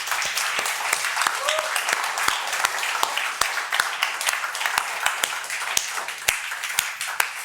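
A church congregation applauds during an Easter Sunday service, a steady wash of many hands clapping that runs for the whole stretch at even loudness, with sharper individual claps popping out here and there.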